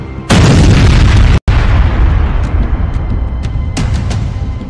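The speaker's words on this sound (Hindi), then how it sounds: "फिर सीरियल ब्लास्ट" Serial blasts at a weapons depot struck by a missile in the Russia-Ukraine war: a loud, sustained roar, one big blast followed by rumbling, crackling booms and scattered sharp pops fading into continuous rumble.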